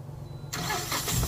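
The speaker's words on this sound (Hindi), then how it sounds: "ये हमने गाड़ी को किया स्टार्ट।" A Tata Ace Gold BS6 mini truck engine cranks and catches abruptly, settling into a loud, rough mid-pitched idle heard up close.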